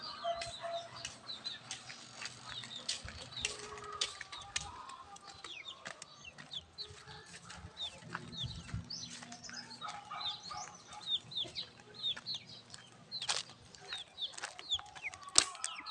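Chickens with small chicks clucking and moving around outdoors, a busy mix of soft clucks, peeps and occasional wing flaps at close to medium distance, with no one speaking.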